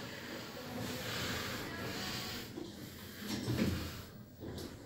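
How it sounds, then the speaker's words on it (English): A Kone lift at a New Look store in Inverness Retail Park slides its doors shut, a soft rumbling closure over a steady ambient hum. "Doors closing."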